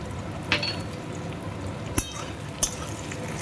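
Chopped ginger and green chillies fry in a pan for chili chicken, a soft continuous sizzle broken by three sharp metallic clinks of a utensil against the pan, spaced irregularly.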